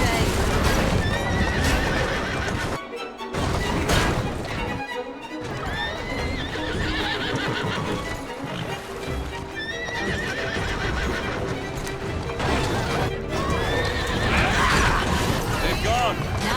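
Horse-drawn carriage chase in the video game Assassin's Creed Syndicate, with continuous loud galloping clip-clop and repeated neighing and whinnying over crashes and rumbling wheels; voices speak at times.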